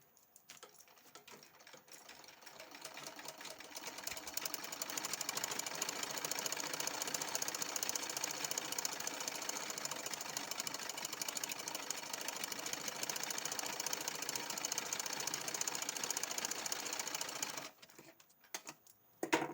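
A sewing machine stitches a kurti at a loose fit, a fast steady mechanical whir that builds up, runs continuously for most of the clip, then stops near the end.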